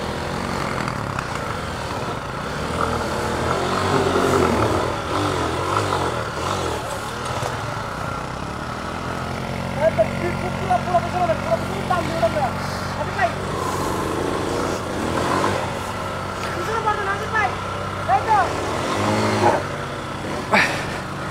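A motorcycle engine on a bike adventure trail to Bashbaria waterfall in Bangladesh, idling and rising into strained throttle blips with a steady drone, close by, with people talking over it at times.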